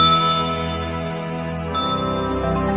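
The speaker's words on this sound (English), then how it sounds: "what made porcelain so desirable and completely different from other ceramics was the fact that it rang when you hit it" Ancient Chinese porcelain struck and ringing with clear, sustained bell-like tones that hang steadily, then a fresh strike partway through renews the ring.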